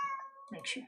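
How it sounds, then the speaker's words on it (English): A cat meows briefly and nearby while a person speaks a few words; the meow rises bright and short. "I don't know if you can hear the meowing."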